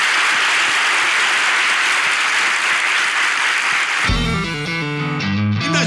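A studio audience on a TV relationship quiz show applauds loudly and evenly for about four seconds before the clapping gives way to a music sting.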